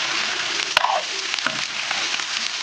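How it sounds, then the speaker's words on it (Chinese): Pork ribs stir-fried in lard with scallion, ginger and dried chili give a steady close sizzle, broken by a sharp clack of the spatula against the pan and soft stirring scrapes. "炒排骨"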